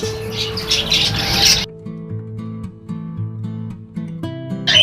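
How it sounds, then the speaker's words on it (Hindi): Many birds in a pigeon aviary squawk and chirp together loudly at first, then a quieter stretch follows with a repeating low tone and scattered chirps. "सभी बर्ड्स की चहचहाट आप लोग सुन सकते हैं"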